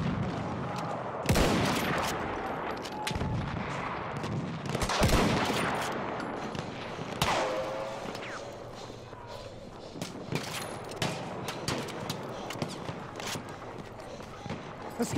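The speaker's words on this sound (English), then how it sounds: "Machine gun, hostile." Battlefield 1 battle scene with machine gun and rifle fire, bursts of shots and explosions, near and distant, in an ongoing fight, with voices calling out over the gunfire.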